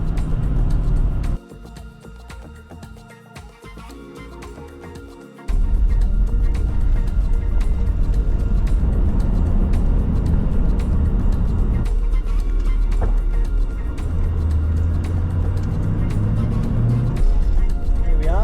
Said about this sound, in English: Troopy loves climbing hills, BadGaz. Does. Look at it go